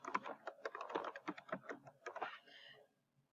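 Keywords are typed on a computer keyboard in a quiet room: a quick, close series of crisp key clicks in irregular bursts that trail off into silence.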